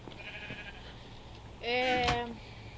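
Sheep bleating in the game Minecraft, one wavering bleat standing out near the middle over a low background, with a brief fainter call earlier.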